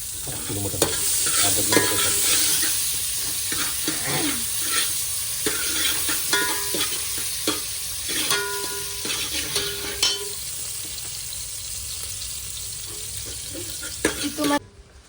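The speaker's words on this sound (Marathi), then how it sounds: "कांदा लाल होईपर्यंत इथं ठेवणार आहे" Onion, bay leaves and whole garam masala fry in a pot, a bright continuous sizzle that fades gradually while a utensil repeatedly scrapes and stirs, ending with a few clanks.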